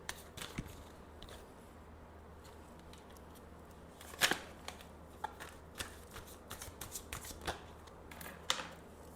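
Tarot cards being shuffled, a soft papery riffle broken by a few sharper snaps and flicks near the mic, with no speech.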